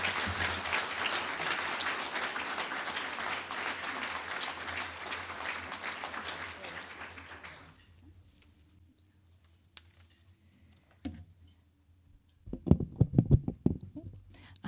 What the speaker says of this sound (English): Let's give Inside Out Reentry a round of applause for its outstanding work.